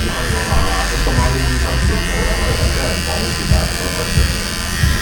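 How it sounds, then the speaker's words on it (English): An electric razor doing a dry shave during a luxury hair treatment in Hong Kong gives a steady close buzz throughout, with a person talking over it. "So I think this is going to be a dry shave. Just using the razor to take everything off."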